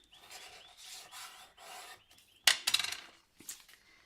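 A stamped paper mask being burnished by hand in a card-making session: soft rhythmic rubbing strokes, then a crisp brief scraping burst and a few quieter rubs, close and alone.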